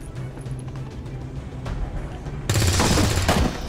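Gunfire from soldiers shooting at an enemy in the XCOM 2 video game, a loud burst of rapid shots that breaks in abruptly after quieter game ambience with faint clicks.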